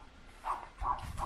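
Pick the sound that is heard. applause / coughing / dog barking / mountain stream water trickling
dog barking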